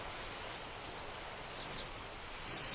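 A young cuckoo chick, grown too large for the tiny warbler nest, gives faint, thin, high-pitched calls that mimic a whole brood of warbler chicks, heard as a few short bursts over quiet background hiss.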